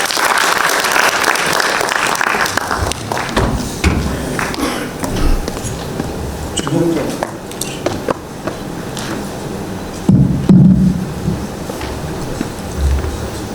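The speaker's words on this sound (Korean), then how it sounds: "큰 박수 부탁드리겠습니다." An audience at a small-business support debate forum applauds steadily and loudly for a presenter, dense clapping that thins and gets patchier toward the end.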